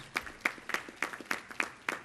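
An audience at a Rotary award event applauds sponsors, heard as faint, sparse clapping with a few distinct claps repeating at a loose, steady rhythm.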